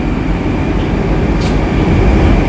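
A Moscow metro train at CSKA Stadium station fills the space with a steady, loud rumble that holds unbroken throughout, with no voices.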